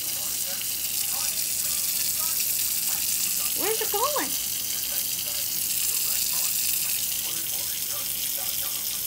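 Steady running water from a kitchen sink tap fills the whole clip, with a person's voice and brief high squeaky vocal sounds partway through as a cat plays in the water.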